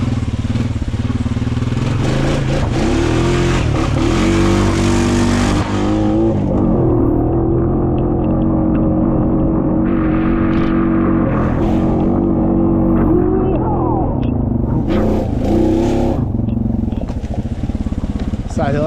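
A quad ATV in two-wheel drive revs and strains up a muddy hill after the first big rainstorm, engine loud and close with rising and falling throttle bursts, while riders talk and exclaim over it.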